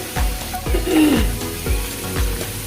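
Onions with a little turmeric fry in oil in a pan, giving a steady soft sizzle broken by regular scraping strokes of a spatula.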